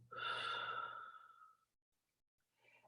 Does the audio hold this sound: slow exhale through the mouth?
yes